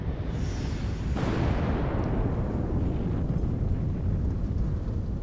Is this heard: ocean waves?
no